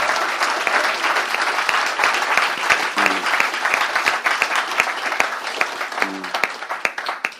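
An audience at a talk on anomalous experiences gives a sustained round of applause, steady dense clapping that carries on for several seconds with a few sharper individual claps standing out near the front.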